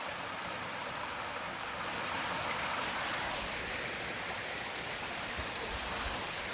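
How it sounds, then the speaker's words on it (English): Steady broadband rush of water pouring at a 75-foot waterfall feeding a stream and small lagoon, a dense continuous roar heard up close with no talking. "Sitting here chilling, listening to the water."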